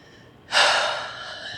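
One sharp, audible inhale through the nose during a yoga flow, close and alone, rising quickly and then trailing off softly.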